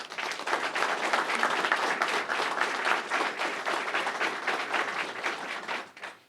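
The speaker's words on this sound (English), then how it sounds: "Let's give him a round of applause." A crowd applauds at a lieutenant's promotion ceremony, loud sustained clapping close by that holds steady for several seconds before tapering off at the end.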